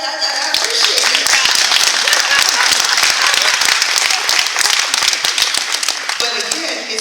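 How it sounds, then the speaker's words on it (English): Loud, dense applause from a gala audience, sustained clapping filling the room close by for several seconds before easing slightly at the end. "You can clap for that."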